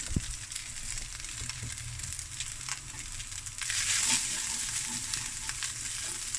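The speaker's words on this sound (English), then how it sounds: "Let that rice fry as well in that flavorful oils." Rice frying in seasoned oil for a Nigella and roasted seaweed rice dish sizzles steadily up close with a crackling hiss. The sizzle grows louder about halfway through as stirring scrapes come and go, and no one speaks.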